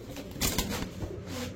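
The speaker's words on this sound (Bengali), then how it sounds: "রামপুরি কবুতর দর্শক, চোখগুলা দেখেন আর খুবই ছটফটে কবুতর গুলা।" Rampuri pigeons coo softly at close range, a few low, muffled bursts mixed with faint rustling and background noise, no talking.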